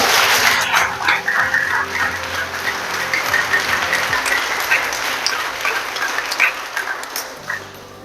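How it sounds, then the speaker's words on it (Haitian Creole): An audience applauding warmly at an International Women's Day gathering in Cayes, dense steady clapping throughout that thins slightly toward the end, with faint voices underneath. "je demande à applaudir chaudement pour moi"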